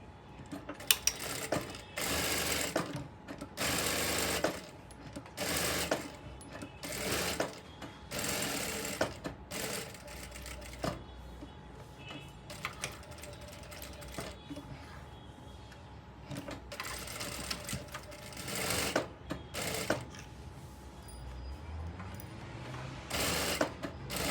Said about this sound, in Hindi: अब हम यहाँ पे नेक में 1/2 इंच की स्टिच लगाएंगे।